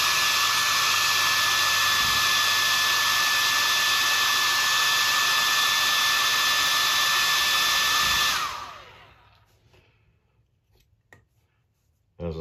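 A heat gun blows a steady, loud roar while heat-setting blue-tinted paint on a Whopper Plopper fishing lure, running continuously for about eight seconds before switching off, leaving near silence and a faint click.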